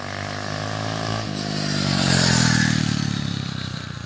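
An SSR 125cc semi-automatic pit bike engine revs up from a rumbling idle into a loud, rising buzzy roar that peaks and eases slightly, heard close with some clatter.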